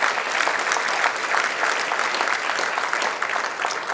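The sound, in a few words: audience applause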